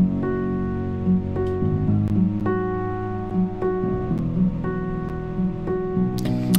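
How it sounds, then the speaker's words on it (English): Piano playing a melody, the notes repeating steadily and fairly close, with a low noisy hiss beneath; no voices. "here's a normal piano being played like for the song"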